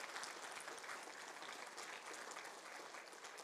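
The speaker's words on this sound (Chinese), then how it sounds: "我们用鼓掌的热情来向法师" An audience at a Buddhist water-and-land dharma assembly applauds to thank the master, a soft, even wash of continuous clapping that sounds somewhat distant and carries no voices.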